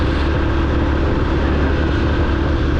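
Steady, loud engine drone from a motorbike carrying two riders on an empty road through Joypur forest, droning continuously without a break and heard close, with no voices.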